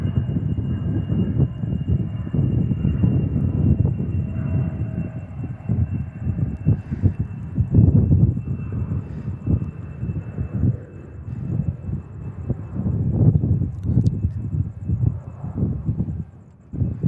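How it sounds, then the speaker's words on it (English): F-16 fighter jets of the Air National Guard taxiing along an airport runway after landing at Tucson International Airport, a steady low engine rumble and roar that swells and fades slightly, heard from a distance with wind buffeting the microphone. "there they go, coming back. They're going to taxi on down to probably Delta or Alpha 6 and get off the runway"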